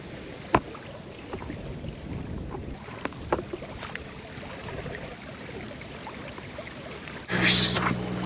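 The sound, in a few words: boat passing on water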